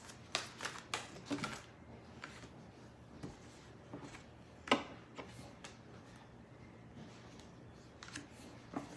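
Tarot cards shuffled and let fall onto a surface, giving a quiet run of irregular soft flicks and light slaps, with one sharper drop near the middle, no voices.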